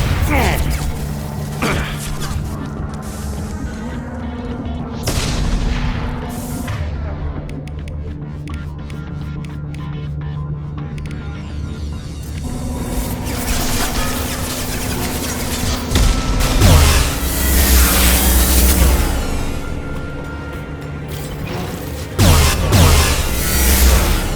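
An enemy gunship attacks in Mass Effect 2, with rapid bursts of heavy fire, booming impacts and a droning hum that build to loud crashes near the end.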